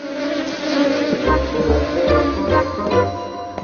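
Bees buzz around flowers in a Hindi-dubbed children's cartoon, a steady close insect drone with rising and falling swells that runs throughout and sits under light background sound.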